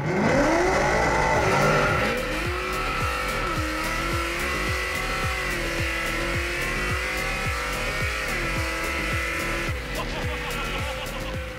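A Chevrolet C10 pickup truck engine roars under full-throttle acceleration, revving continuously with repeated gear-like pulses, loud and close, with a brief tire squeal at the start.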